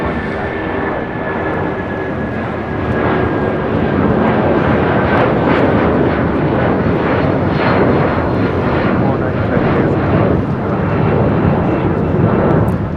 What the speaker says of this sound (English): That is United Airlines 2495 taking off to Houston Intercontinental on a 757-200 here